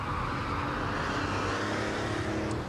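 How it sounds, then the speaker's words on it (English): An air-cooled six-cylinder car engine from the early 1990s drones steadily from inside the cabin while driving, a loud continuous rumble with a slight cackling edge and no talk. "listening to the cackle of that wonderful air-cooled six-cylinder engine"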